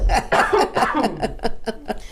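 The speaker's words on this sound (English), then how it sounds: "I have to cough." A person coughs and sputters in a rapid burst of rough, choppy sounds, close and fairly loud, with laughter mixed in.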